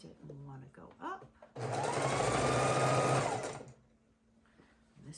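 A sewing machine stitches a seam through quilt fabric, a steady close whirring run of about two seconds, with someone talking before and after it.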